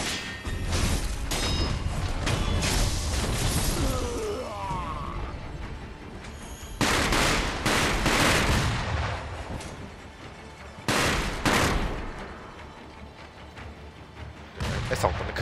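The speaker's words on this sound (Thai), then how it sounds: "มีประทัดด้วยเหรอ" Firecrackers going off in Sekiro: Shadows Die Twice, a loud string of sharp bursts and booms in a few dense clusters, close and crackling, with game effects and no talk.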